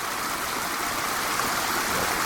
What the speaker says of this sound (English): Water just sort of trickles out of wherever it wants.